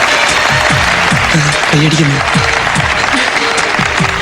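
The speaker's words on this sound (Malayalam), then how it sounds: "സൈലന്റ് ആയിട്ട് കൈയടിക്കൂ പ്ലീസ്." A comedy show audience claps in a steady, dense wash of applause across the whole stretch, with a voice talking over it.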